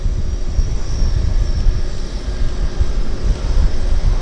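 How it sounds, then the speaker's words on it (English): Floatplanes moving around the busy Vancouver Harbour floatplane base, with several aircraft taxiing at once, give a steady loud engine drone and rumble, with wind noise and no talk. "3 airplanes on the move simultaneously, so it's a busy harbor"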